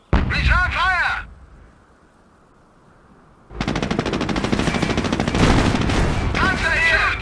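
Rapid, dense machine-gun fire in the World War II strategy game Company of Heroes rattles loud and continuous for several seconds, after a shouted voice and a brief quiet lull.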